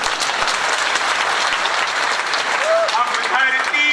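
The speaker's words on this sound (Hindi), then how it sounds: "आप लोग एक बार तालियां बजाइए" An audience clapping loudly and continuously at a live comedy and poetry show, with a voice starting to speak near the end.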